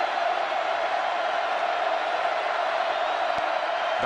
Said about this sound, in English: The crowd alive in Lubbock.